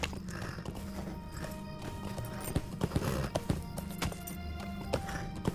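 Horse hooves clip-clop steadily in an even walking rhythm while riding past a wall in the game The Lord of the Rings Online, with an occasional neigh over a constant ambient game background.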